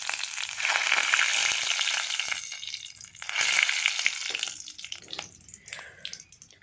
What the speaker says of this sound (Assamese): তেল পকিলে এতিয়া মই তেলতে শুকান জলকীয়া আৰু তেজপাত দি দিছোঁ